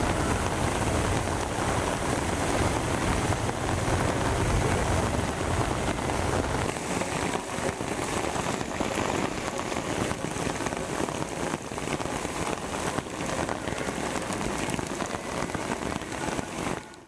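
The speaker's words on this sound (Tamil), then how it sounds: "திருச்செந்தூர் மற்றும் அதன் சுற்றுவட்டார பகுதிகளில் காலை முதல் பெய்து வரும் கனமழையால் சாலைகளில் மழைநீர் பெருக்கெடுத்து ஓடுகிறது." Heavy rain pours steadily at Thiruchendur, water streaming over the roads, a dense continuous hiss that stays loud throughout with some wind buffeting the microphone.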